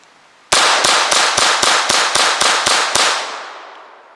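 Ruger Mk IV pistol plinking with Black Hills ammunition: ten sharp, evenly spaced shots in quick succession, close and loud, ringing out into a fading tail.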